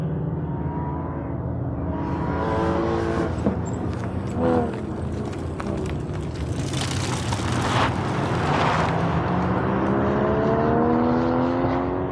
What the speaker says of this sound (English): 67 Camaro running in Cam T.